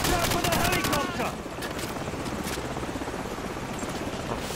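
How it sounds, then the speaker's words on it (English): A helicopter in the Call of Duty 4 Modern Warfare campaign, its loud rotor chop pulsing steadily throughout, with bursts of rapid gunfire crackling over it in the first second. "Watch out for the helicopter!"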